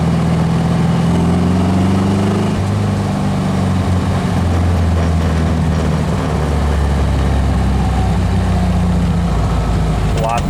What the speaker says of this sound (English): It's a quiet engine, I'll say that.